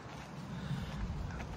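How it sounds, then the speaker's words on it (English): Steady wind blowing outdoors, a low rumbling gust noise that stays even and close throughout with no voices. "The wind's making a really weird noise."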